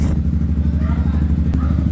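A Suzuki Raider/Sniper V3 motorcycle engine idles steadily and loudly up close at operating temperature, a constant low rumble with slight clatter and no revving.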